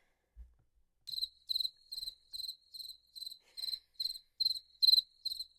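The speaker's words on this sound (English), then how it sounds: "Crickets." Crickets chirp in a steady, evenly spaced series of about ten short bursts, fairly clear and close, with no voices over them.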